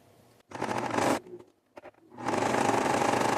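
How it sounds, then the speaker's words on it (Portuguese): A sewing machine runs a straight seam along fabric edging, like applying bias binding, in two steady mechanical bursts: a short run, a brief pause with faint handling sounds, then a longer continuous stretch. "E vamos passar uma costura reta aqui."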